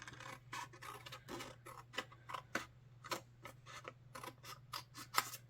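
Scissors cut through craft material in a quick, steady run of close, crisp snips, each a short scratchy burst, over a low constant hum with no talking.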